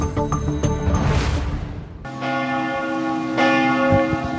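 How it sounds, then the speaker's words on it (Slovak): Church bells of the Šaštín basilica in Slovakia peal steadily, a dense ringing with a fresh strong bell stroke midway and another later, no voices over it. "Toto sú zvony Šaštínskej baziliky, ktorá privíta pápeža 15. septembra."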